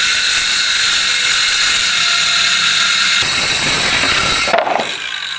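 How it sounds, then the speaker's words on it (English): A small Ryobi power saw whines loudly and steadily up close, its pitch shifting partway through before the motor winds down near the end. "Here, little Ryobi saw."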